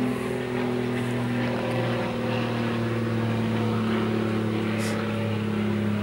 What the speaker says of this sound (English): That was a plane.